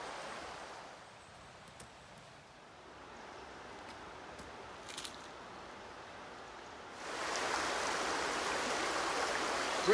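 The River Nidd flows through a gorge at Knaresborough in North Yorkshire with a steady broadband rush of moving water, moderate at first and swelling noticeably louder and nearer in the last few seconds.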